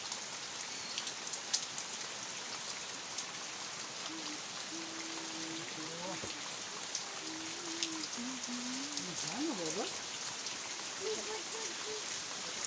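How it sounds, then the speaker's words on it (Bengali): Heavy rain pours down steadily in a rural home setting, a dense, even hiss throughout with a soft voice or faint tones occasionally audible beneath it. "মুসলধারে বৃষ্টি পড়ছে"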